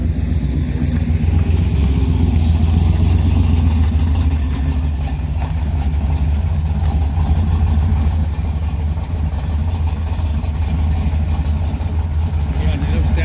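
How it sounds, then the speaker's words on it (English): A hot rod's 454 engine rumbles steadily as it pulls away at a car show gathering, with a constant low throbbing running throughout and people chatting over it. "That's the sound of a 454."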